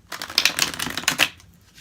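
Tarot cards being shuffled by hand, a quick run of crisp papery riffles and flicks lasting about a second, close and fairly clear, then trailing off into quiet.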